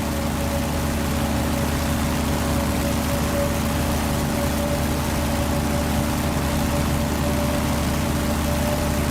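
F4U Corsair piston aircraft engine in a flight simulator game, a steady loud droning roar with a constant whine, continuous throughout with no talk.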